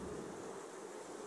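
Honeybees drone steadily in a hive: a faint, continuous buzzing hum with no break over about a second.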